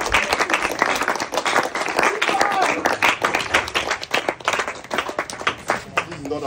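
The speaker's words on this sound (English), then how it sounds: "Round of applause." A group of students claps in a school setting, with dense, steady applause that carries loud and close throughout and a few voices cheering underneath.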